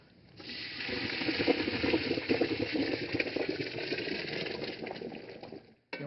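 Boiled pasta is poured into a strainer at a kitchen sink, with a steady rush of draining water running for several seconds before cutting off abruptly near the end.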